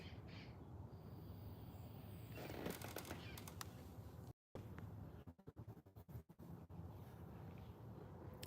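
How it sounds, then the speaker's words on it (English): Several parrots calling as they fly over, harsh squawks and screeches in bursts against steady outdoor background noise, with a brief dropout partway through. "I hear the parrots."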